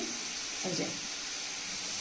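Pointed gourd (potol) slices fry in a pan, giving a steady, close, broadband sizzle and hiss that continues evenly without pause.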